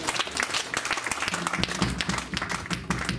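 A church congregation bursts into applause, a dense, steady wash of many hands clapping close by throughout, with no voices rising above it.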